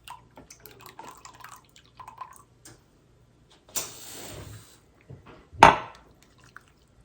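Home-canned cherries are drained of their liquid, with scattered small drips and clinks, then a longer pouring gush, and a sharp splash near the end, all close and fairly quiet with no talking.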